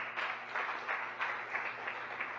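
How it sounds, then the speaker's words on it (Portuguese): Faint church congregation applause, soft rhythmic clapping in brief pulsing bursts, distant and low in level. "Aplauda o Senhor Jesus."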